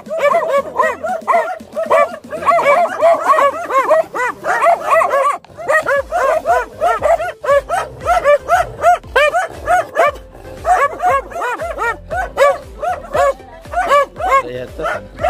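Several dogs bark in quick, repeated bursts, nearby and loud, with some higher yips mixed in and brief pauses between volleys.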